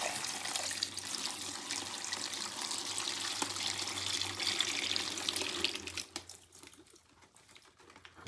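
Brine poured over two turkey breasts in a bucket, a steady close splashing pour that runs for about six seconds, then trails off into scattered drips and small knocks.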